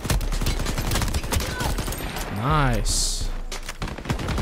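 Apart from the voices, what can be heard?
shotgun gunfire in the video game Shatterline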